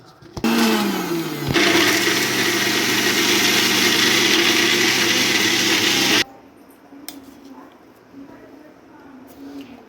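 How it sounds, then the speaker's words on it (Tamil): A kitchen mixer grinder grinding sesame seeds and jaggery whirs up and runs loudly at a steady pitch for several seconds, then stops abruptly, leaving quiet room sounds. "இப்போ இதை மிக்ஸியில் ஒரு ஓட்டு விட்டு வந்துடலாம்"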